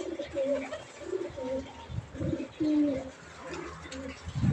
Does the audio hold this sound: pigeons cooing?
yes